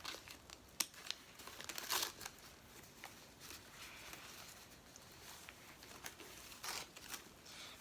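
Paper crinkles and rustles as a shipped Syngonium plant is unwrapped, a series of quiet, close crackles and sharper tearing bursts in irregular clusters.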